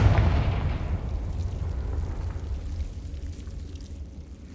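A Confringo fire spell blasts in Hogwarts Legacy with a loud, close booming burst that rolls on as a deep rumble and slowly fades over several seconds.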